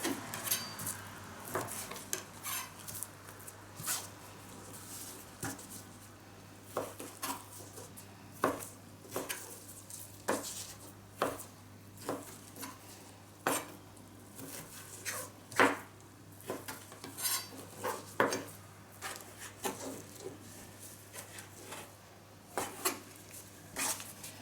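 A pre-sharpened knife cutting beef and pork for homemade salami on a board, sharp irregular taps and clicks of the blade striking wood, close and fairly quiet, continuing steadily without talk.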